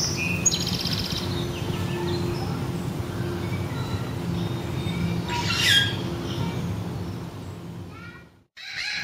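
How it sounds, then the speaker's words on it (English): A yellow-billed parrot calls noisily in a zoo bird exhibit, with sharp bursts and squawks standing out over a steady wash of background noise and crowd murmur. "That is a very noisy yellow-billed parrot."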